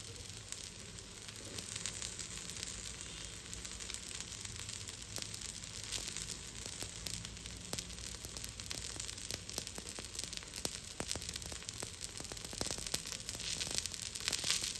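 Dibba rotti, a thick spongy dosa, frying in a pan: a faint, steady crackling sizzle with scattered sharp pops throughout, close by and continuous, with no talking.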